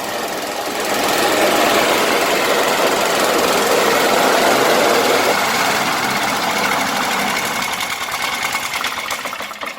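A fifty-year-old reel mower's petrol engine runs steadily just after a cold start, a loud, fast, rattling putter that holds its pace throughout with no voices.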